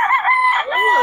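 Chickens and roosters let out of their enclosure, with a loud, close rooster crow that rises and wavers over about a second, with some clucking around it.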